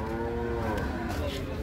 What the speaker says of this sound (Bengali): গাবতলী গরুহাটের দুম্বা।